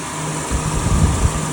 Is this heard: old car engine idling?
yes